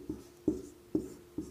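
Chalk or marker writing on a board during a physics lecture, four quick taps or strokes spaced evenly, faint and close, with no talk.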